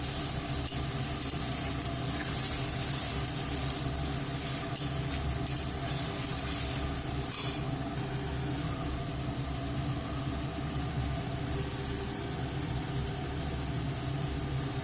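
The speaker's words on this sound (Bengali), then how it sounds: "এরপর আমি মশলাটাকে ভালো করে কষিয়ে নিচ্ছি।" Spice paste with tomato paste being sautéed in a pan, sizzling steadily and evenly throughout with no voices.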